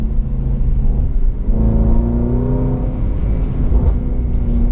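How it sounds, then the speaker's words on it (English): A 2020 Jaguar F-Pace SVR engine revs and drones loudly in manual mode, pitch rising and settling, with a few brief crackling pops from the exhaust near the end. "Oh, yep, it does the pops and the crackles."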